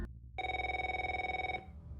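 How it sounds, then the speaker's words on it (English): An office telephone rings from a cubicle in a dark, empty office: one long, steady electronic trill with a rapid warble, close and clear, starting abruptly and then stopping, with no one talking. "that's when a phone starts ringing from one of the cubicles"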